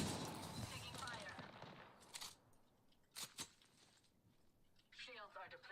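Gunfire from the Apex Legends battle royale game, a burst of distant rapid shots with a few sharper cracks, heard amid game effects and background noise.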